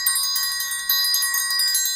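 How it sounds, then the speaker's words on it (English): A triangle bell rings in a cartoon, bright metallic strikes repeating in a quick rhythm, loud and close with no talking. "Ollie, ring the triangle bell."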